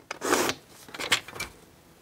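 A craft knife or blade cutting through card on a cutting board, making close, short scraping strokes: one longer rasp followed by several quicker, fainter scrapes.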